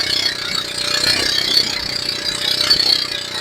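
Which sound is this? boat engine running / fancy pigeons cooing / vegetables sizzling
boat engine running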